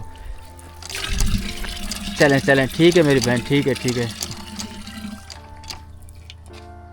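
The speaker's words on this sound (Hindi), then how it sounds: "माशाल्लाह से पानी आप चेक कीजिए, बहन पानी भर रही हैं।" Water gushes from a hand pump in a historic tower market area in Hyderabad as a woman fills a container, a loud splashing stream with rhythmic pumping surges, while people talk over it nearby.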